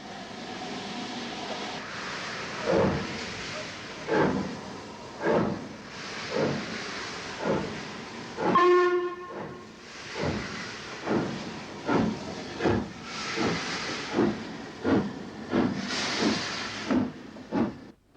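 An LMS Black 5 steam locomotive at Marylebone station gives a steady run of rhythmic exhaust chuffs with hiss, and a brief whistle-like tone sounds midway. The beats are loud and close, and no voices are heard.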